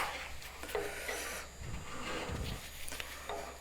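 A chisel paring and rasping along a wooden mandolin neck, with repeated close scraping strokes in an uneven rhythm in a quiet room and no voices.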